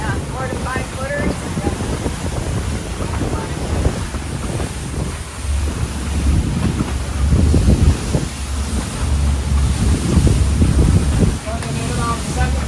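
A boat runs at about 17 knots across 4 to 5 foot waves on Georgian Bay in wind, with loud gusts buffeting the microphone over a low hull rumble and washing water, and voices faintly underneath.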